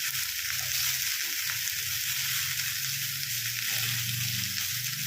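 Dry spices, green chillies and ginger fry in hot oil for pumpkin dalna, giving a steady close sizzle with soft stirring clinks underneath and no voices.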